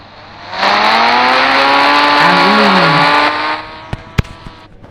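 Motorbike engine in a 3D Indian bike video game, revving up sharply and holding a loud, steady roar for about three seconds before cutting off, followed by a few sharp clicks.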